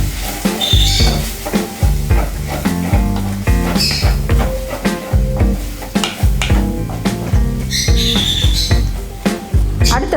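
Onions sautéing with chili powder in a pan for Chettinad crab masala, with rhythmic stirring scrapes over a steady sizzle and someone speaking throughout.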